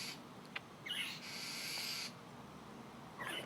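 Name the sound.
large bird calling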